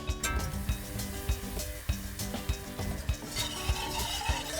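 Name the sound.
whisking butter and flour roux in a pan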